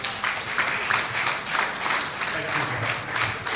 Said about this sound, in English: another beautiful round of applause for that.